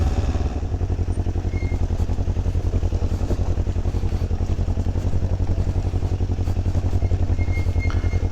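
A cheap offroad adventure motorcycle ridden along a technical dirt trail, its engine droning loud and steady with a rapid rhythmic low pulsing and faint rattles throughout, no voices.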